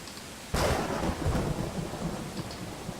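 Thunder cracks sharply in a video game's storm scene, then rolls on under steady rain. The rumble is loud and nearby with no voices.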